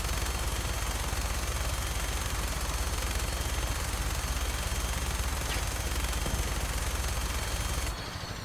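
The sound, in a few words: gunfire in the video game Fallout 4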